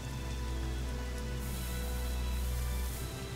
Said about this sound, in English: the rainy night